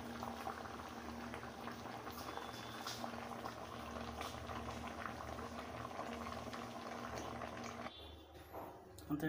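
Mutton boils in a pressure cooker, bubbling steadily at low volume with a constant hiss and churning, ending with a few clinks and handling noises.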